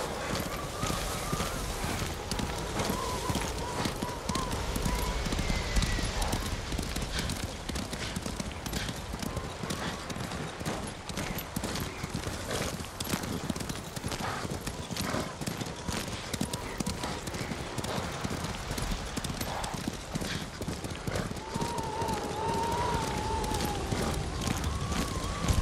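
Horse hooves galloping in Ghost of Tsushima, a fast continuous clip-clop rhythm under a dense game mix with faint whinnies and score.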